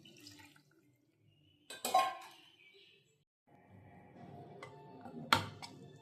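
Water pours and splashes into a metal pressure cooker holding mutton gravy, with a couple of sharp clinks of metal and glass in a quiet kitchen.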